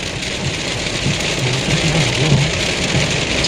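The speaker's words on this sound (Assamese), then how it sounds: "এয়া বৰষুণটো ডাঙৰকৈ আহি আছে একদম" Heavy rain pouring outdoors at night in Assam while people are caught halfway along a road, a dense steady hiss of downpour with low rumbling underneath and no talk.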